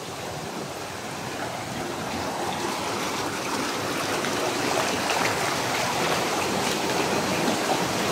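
A stream flows in a steady broadband rush of water, loud and close, holding constant with no breaks and no voices.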